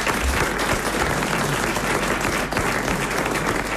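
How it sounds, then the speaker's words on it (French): A studio audience at a French radio comedy panel show breaks into loud, sustained applause, dense steady clapping filling the whole stretch with no pause. "soyez néanmoins applaudis et chaleureusement remerciés"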